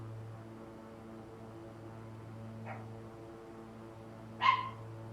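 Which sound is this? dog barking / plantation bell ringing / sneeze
dog barking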